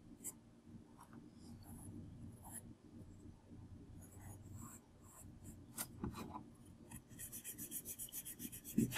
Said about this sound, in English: I find it the least damaging eraser for paper, erasing on paper.